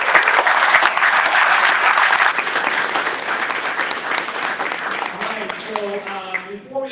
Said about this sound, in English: Give a big warm round of applause for CATHARINE.